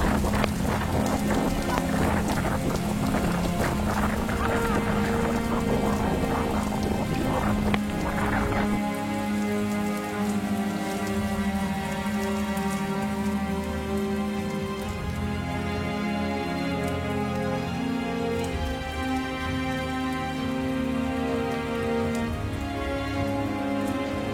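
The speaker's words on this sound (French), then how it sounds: "C'est de la grêle." Heavy rain and hail pelt down in a dense, steady clatter during a rainy-season storm in Africa, with gusts of wind buffeting the microphone.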